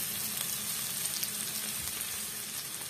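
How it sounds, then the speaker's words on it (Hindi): Onions frying in a pan for a banana blossom curry, a steady close hiss and sizzle throughout with faint crackles, no voices. "जब तक हमारे प्याज भून रहे हैं"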